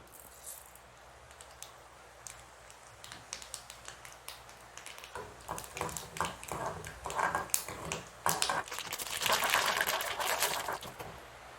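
Mustard seeds pop and crackle in hot oil in a pan for a gooseberry pickle, starting with sparse ticks and building into dense, rapid sputtering that grows louder toward the end, close up and with no voices.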